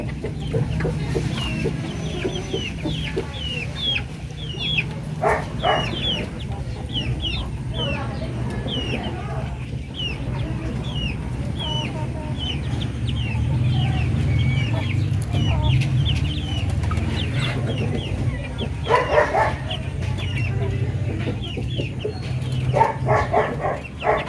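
Native chickens cluck steadily and close by in a backyard farm, a continuous chorus of short calls with occasional louder squawks throughout.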